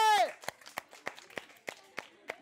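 An audience at a balancing contest claps in a steady, evenly spaced rhythm of about three beats per second, crisp and moderately loud, after a brief voice at the start.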